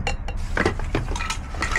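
A glass tumbler is handled up close, giving several bright clinks and knocks against hard surfaces in quick irregular succession, with a low murmur underneath.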